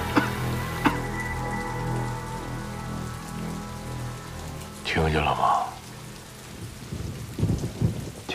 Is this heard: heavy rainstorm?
yes